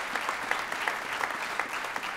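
Audience applause at a state senator's swearing-in ceremony, a continuous patter of many hands with a few sharper individual claps standing out, steady and fairly close.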